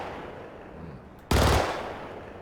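A laser SMG fires in the space game Star Citizen, a single short, loud burst of zapping shots breaking over low ambient game hum.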